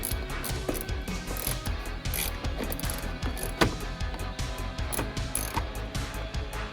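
A small ratchet clicks in quick repeated bursts while loosening rear speaker bolts inside a third- or fourth-generation F-Body car, with close metallic ticking and faint handling noise.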